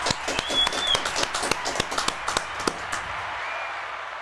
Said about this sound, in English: I didn't think the studio audience was going to stop clapping